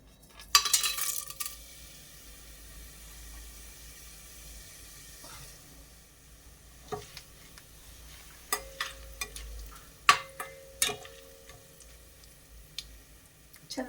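Whole pulao spices fry in heated oil in a pot, a faint low sizzle punctuated by scattered clinks and taps of a spoon against the vessel, with a brief louder burst at the start.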